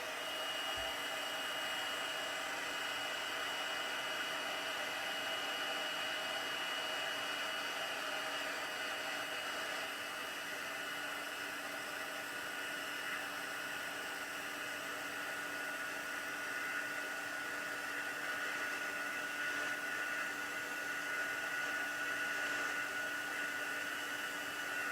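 A heat gun blows a steady, loud, unbroken hiss of hot air onto embossing powder on a decorative-mask background for about twenty-five seconds, with no talk over it.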